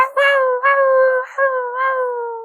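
Wolves howling close by in a video game: several long, wavering howls rise and fall one after another, loud and clear with no talk over them.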